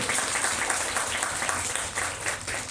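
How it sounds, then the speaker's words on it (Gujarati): An audience at a school celebration applauds to honour guests, with a steady, bright patter of many hands clapping continuously throughout, fairly loud and close. "આપણે તાળીઓના ગણગણાટથી વધાવી રહ્યા છીએ"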